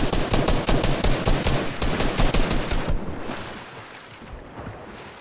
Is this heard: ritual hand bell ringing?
no